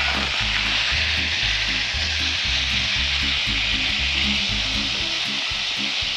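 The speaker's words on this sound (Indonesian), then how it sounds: "jadi sekarang saya mau menumis minyak ini langsung di pan" Oil sautéing directly in a hot pan, a loud, steady broadband sizzle running the whole time, with regular low thumps of a burner or pan underneath and no talking.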